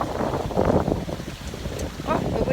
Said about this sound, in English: so now we have wind noise and water noise.